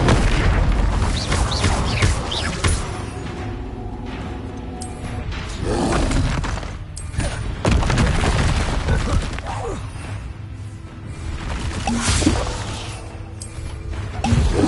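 Spell blasts cast in the Hogwarts Legacy video game, a run of loud booming impacts and roaring whooshes in quick succession, with clustered explosions and crashes over a dense rumbling game backdrop.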